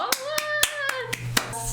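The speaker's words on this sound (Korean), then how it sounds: "여러분 큰 박수로 맞이해주세요." Sharp, evenly spaced hand claps greet a guest lawyer at a Korean talk-style session, about seven distinct slaps over a held voice-like tone, close and fairly loud rather than a dense crowd roar.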